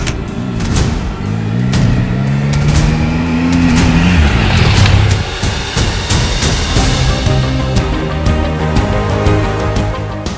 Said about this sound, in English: the updated exhaust now sounds sweeter. The distinct inline-3 whine now has more bass